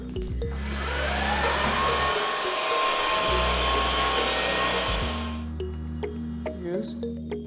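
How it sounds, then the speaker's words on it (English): A freestanding mopping vacuum runs with a loud, steady whooshing whine for about five seconds before switching off, followed by a few light clicks and handling sounds. "This is a freestanding mopping vacuum."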